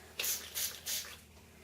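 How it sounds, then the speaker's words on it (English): Three short hissing bursts of blue paint from a spray bottle in quick succession, close and crisp, then quiet. "I'll spray a couple more blue circles."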